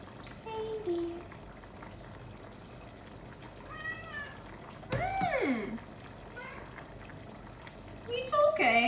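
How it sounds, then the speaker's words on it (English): A cat meows several times in a home kitchen during cooking, short rising and falling cries with one louder, nearer call midway and another at the end, over faint running-water noise. "Don't know if you heard her meowing."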